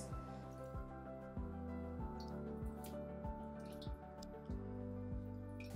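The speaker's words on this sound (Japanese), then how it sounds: "水切りして拭いていきます。" Blanched octopus draining in a colander, with steady water drips and faint wet squishes from wiping, quiet and close, no voices.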